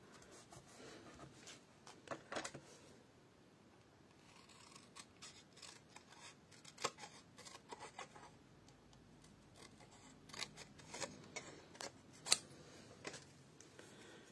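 Scissors cut around the edge of a paper greeting card, a string of crisp snipping clicks in irregular bursts with quiet pauses between them, close and alone without voices.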